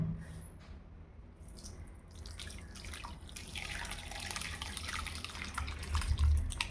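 Whey and water draining from freshly split paneer strained through a cotton cloth, a soft continuous trickle and dripping close by, growing slightly louder toward the end, with no talking.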